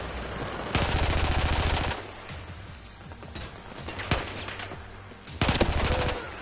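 Assault rifle gunfire in a video game, with two long bursts of rapid automatic fire separated by quieter stretches holding a single sharp shot, loud and close.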